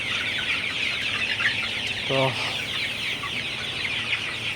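Chickens in a Sonali chicken farm house keep up a steady, dense clucking and chatter, with one louder squawk standing out midway; a voice speaks a single brief word.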